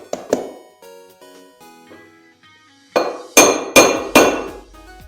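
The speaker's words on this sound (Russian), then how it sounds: "Вот, и начинаем бить по внешней этой кромке." Metal-on-metal hammer strikes driving an old bearing down onto a new washing machine bearing in a sealed tub, sharp ringing clinks, a few lighter taps then four loud blows close by, no talking.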